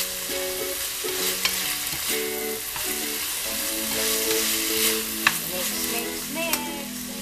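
Mixed vegetables sizzle and fry in a hot pan while a utensil stirs them, with scraping and tossing sounds and a few sharp clinks over a steady crackle.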